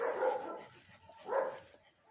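A dog barks twice in fairly faint, muffled outbursts, as though from some distance away, with quiet pauses between the two barks.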